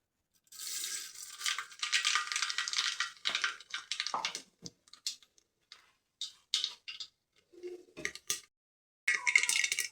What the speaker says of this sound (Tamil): வெந்தயம் கடுகு நல்லா பொரிட்டோம்.